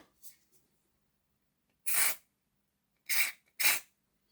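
Short hissing bursts of contact cleaner sprayed onto the drive of a Bachmann Class 166 DMU model train, three main puffs near the end after a few faint ones, close up in otherwise near silence.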